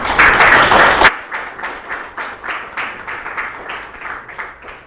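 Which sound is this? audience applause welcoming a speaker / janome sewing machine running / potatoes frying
audience applause welcoming a speaker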